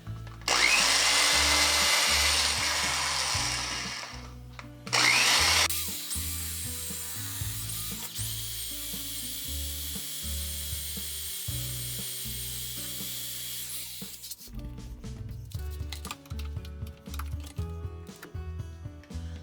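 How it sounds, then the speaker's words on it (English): A power drill bores a 1/8 inch cotter pin hole off center through a windmill shaft, its motor whining in long steady runs broken by short pauses and restarts, close and fairly loud with no talk. "I need to drill a cotter pin hole to miss the grease line, which means it's going to be off center."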